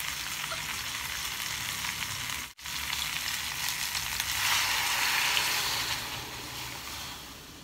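Coke Zero poured into a hot wok holding a whole chicken gives a steady, loud hiss and sizzle, briefly cut by a clatter, then swelling into a fuller bubbling sizzle.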